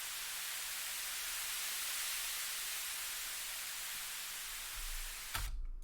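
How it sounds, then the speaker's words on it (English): A broad hiss of white noise from a sample pack, used as a transition in a music track, holds steady for several seconds, then cuts off abruptly near the end with a brief low thump. "It's just taken from the pack, it's just white noise."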